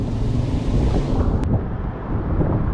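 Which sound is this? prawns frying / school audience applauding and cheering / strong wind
strong wind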